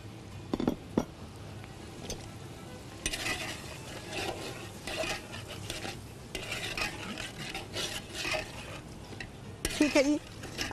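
Browned onions are stirred into a pot of beef pulao, with a spoon scraping and clanking against the metal pot over a light sizzle and a few louder knocks near the start and end.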